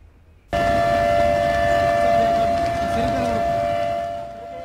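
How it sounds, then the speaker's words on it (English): A loud, steady red alert flood siren at the Kadem dam project, Telangana, wails continuously at one sustained pitch, starting abruptly and holding for several seconds with a slight fade near the end. "Red alert siren at Telangana's Kadem project as Godavari waters reach the 700 feet danger mark."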